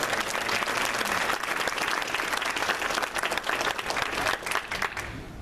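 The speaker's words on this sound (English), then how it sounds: "how about a round of applause for Jimmy?" A crowd applauds steadily and loudly, dense clapping throughout that thins slightly toward the end.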